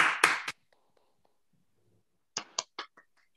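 Sparse hand claps from a few participants unmuting on an online colloquium call, a short cluster of sharp claps, near silence, then another brief burst of four or five claps, quiet and close.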